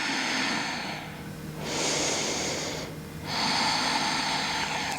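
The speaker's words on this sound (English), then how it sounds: "Nice deep breath." A slow, deep yoga breath during a standing balance in a vinyasa flow, two long airy inhale-exhale swells close to the mic, with no talking.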